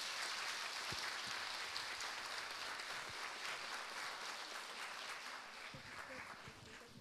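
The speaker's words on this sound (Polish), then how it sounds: "Jeszcze raz brawo." Audience applause after a children's dance performance at a dance show in a cultural centre in Płońsk, a steady, dense clapping that carries on throughout and fades slightly toward the end.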